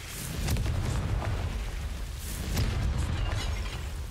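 Confringo explosive spell blasts go off in Hogwarts Legacy, with two loud booming bursts a couple of seconds apart over continuous rumbling battle noise, no talk.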